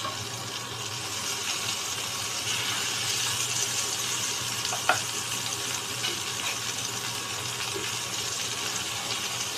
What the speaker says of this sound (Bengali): এবার এর মধ্যে আমি দিয়ে দেবো কুচি করে রাখা ক্যাপসিকামের